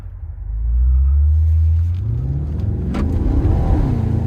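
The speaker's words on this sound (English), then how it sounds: "Sport mode is where you're gonna get the louder exhaust, obviously." A 2023 Maserati Ghibli Trofeo's twin-turbo V8 roars up close in sport mode as it accelerates hard, a deep exhaust rumble climbing in pitch over a few seconds.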